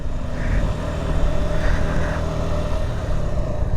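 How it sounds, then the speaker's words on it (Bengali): Motorcycle engine labouring in first gear up a steep hill road toward Sajek, a loud, steady droning roar close by with a faint airplane-like hum, continuous with no pauses. "বাইক দিয়ে বিমান চালানোর শব্দ হচ্ছে আমার কাছে"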